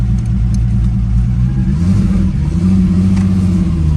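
A 1970 Marcos 1600GT six-cylinder engine pulls under acceleration, heard close from inside the car as a deep, throaty rumble whose pitch climbs partway through and then stays loud and steady.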